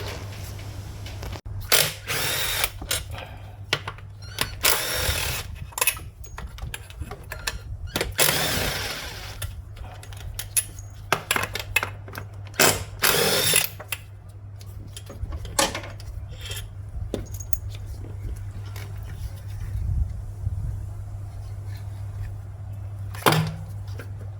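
Ratchet work on the 10mm throttle body bolts of a Toyota 86 ZN6 with a 2.0L FA20D engine: bursts of rapid clicking and short mechanical rattles, close and fairly loud, with steady low hum between them and no talking.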